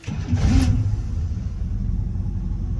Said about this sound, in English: Starts up and idles fantastically.